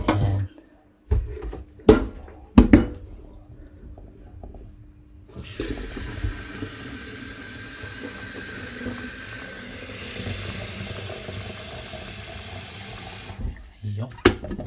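Water runs steadily from a kitchen tap into a sink for several seconds as a steady broadband rush, preceded by a few brief clinks and thuds and ending with more handling knocks.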